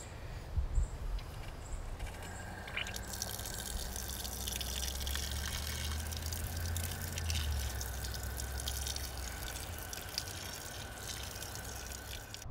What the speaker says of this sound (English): We're just going to use the shower on the back of the camper.